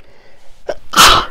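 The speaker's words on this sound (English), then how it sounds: "Oh, I think I'm going to sneeze as well." A single loud, close sneeze bursts out after a short inhaled build-up, indoors during a Christmas paper-crafting session, with no talk over it.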